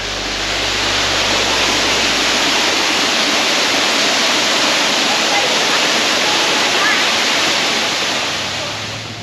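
Little Crystal Creek's waterfall near Cairns roars in a loud, continuous wash of rushing water, steady and close, with a low rumble at the start that fades after a few seconds.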